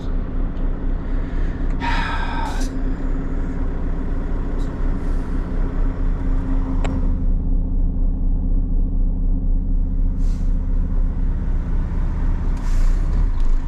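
A vehicle engine rumbles steadily and revs up as the throttle is pressed, with a loud, close, continuous low drone and a brief hiss of air partway through.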